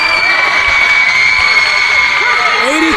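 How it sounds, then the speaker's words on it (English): A college men's basketball crowd cheering a referee's call in a gym, loud sustained roar with shouts and whoops, a commentator's voice underneath. "The crowd is loving that call"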